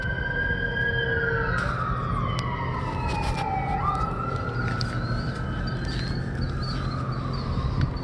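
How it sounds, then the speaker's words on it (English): An emergency siren wails with a long falling sweep, somewhat distant, over a constant low rumble of traffic. "Sorry about the sirens in the background,"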